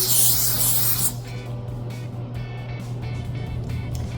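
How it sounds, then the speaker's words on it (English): A loud, close hissing burst of olive oil aerosol spray onto lavash bread lasts about a second, followed by softer rustling and handling sounds over a low steady hum. "I'm going to take some olive oil spray, just spray it evenly on the Lavash bread"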